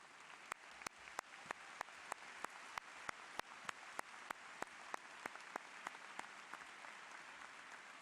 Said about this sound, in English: Graduates, please stand and applaud the family members as they cross the stage.